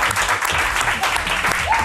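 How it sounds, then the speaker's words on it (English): A burst of dense crowd applause at a VR esports tournament final, loud and close, with many hands clapping at once. "Clap it out for him."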